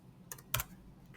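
Computer keyboard typing while entering a value in OnShape CAD software, two quick close key clicks in a quiet room.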